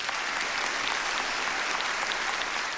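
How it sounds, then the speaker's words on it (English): An audience at a talk-show taping breaks into dense, steady applause, a continuous wash of many hands clapping at even loudness throughout. "You can give him a round of applause."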